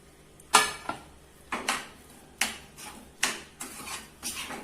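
Fried chicken pieces tipped into a bowl and tossed to coat, a series of close clanks and scraping knocks against the bowl in irregular strokes, each followed by a brief rattle, with no talk.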